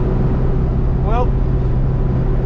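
A Hino box truck cruises at 55 mph, giving a loud, steady engine drone and road rumble from inside the cab, with a brief faint whistle-like sound passing over it midway.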